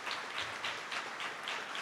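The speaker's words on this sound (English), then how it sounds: "Give yourselves a round of applause." Audience applause at a Teacher of the Year ceremony, a moderate, steady patter of clapping heard from a distance in a large room, with no voices over it.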